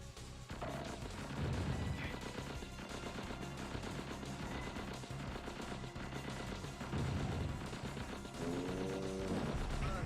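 Video game gunfire from Gungage, played on hard mode: dense, continuous bursts of shots and booming blasts fill the whole stretch at high loudness, with no talking.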